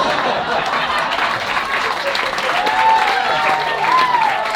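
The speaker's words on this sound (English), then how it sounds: "Thank you for clapping at my pain." Audience applause and clapping at a stand-up comedy show recorded for an album, a steady dense wash of many hands from a full room, with a few whoops and voices rising over it toward the end.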